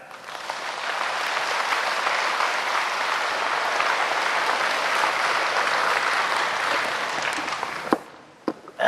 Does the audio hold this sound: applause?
yes